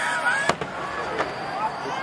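Fireworks bursting at the Tsuchiura fireworks festival, with one sharp nearby bang and a softer second pop, set against a steady crowd murmur and distant crackling as people talk.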